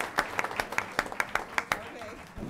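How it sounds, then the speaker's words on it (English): At a school board meeting, a small audience claps in a quick, even rhythm for a couple of seconds, close and moderately loud, with no voices over it. "Let's give them a round of applause and send them off with a happy feeling."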